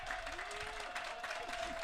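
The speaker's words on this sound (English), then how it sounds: "Now the slow claps come from the Stallion bench." Steady applause drifts across a summer baseball game between the Saugerties Stallions and the Amsterdam Mohawks, coming from the team bench. The clapping is faint and distant under a constant hum of the ballpark crowd.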